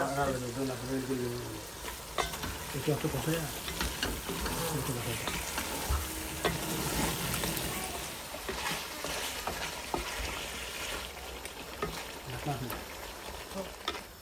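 Eggplant and potato curry sizzles in hot oil while a utensil stirs and scrapes through it in repeated strokes, loud and close, with people chatting over the cooking.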